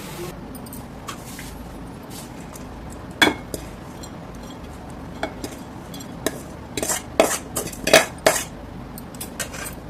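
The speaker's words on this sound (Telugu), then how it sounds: "బాగా మిక్స్ చేయండి" Amaranth leaf fry being stirred in a pan, with a spoon scraping and clinking against the metal in irregular bursts, louder toward the end, over a steady low kitchen background.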